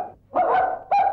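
A dog barks twice in quick succession, close and loud, with short harmonic yelps and a brief pause between them.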